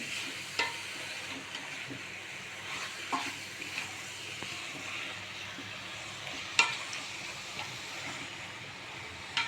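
A food mixture is stirred in a pan, with soft scraping and occasional sharp spoon clicks against the pan over a faint, steady background hiss, with no talking.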